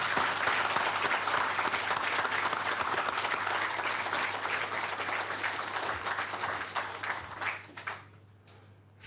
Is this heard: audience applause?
yes